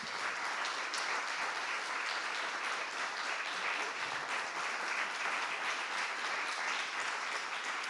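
Steady, even applause from an audience at a Paris notaries' event honouring Rachida Dati, a dense continuous clatter of many hands at moderate distance with no talk.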